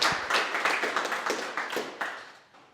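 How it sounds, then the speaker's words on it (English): Scattered applause from a business talk audience, a small crowd clapping in a loose steady patter that fades toward the end. "So let's give them a round of applause, please."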